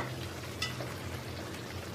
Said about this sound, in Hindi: ढक्कन लगा के धीमी आंच पे 3 से 4 मिनट तक इसे कुक करेंगे।